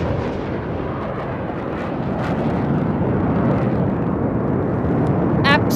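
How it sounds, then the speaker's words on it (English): A single Rafale fighter jet flies past at speed during a Republic Day parade, a loud, sustained rushing jet roar that fills the clip with a brief crackle near the end. "a single Rafale aircraft flying at a speed of 900 kilometers per hour, carrying out a vertical Charlie"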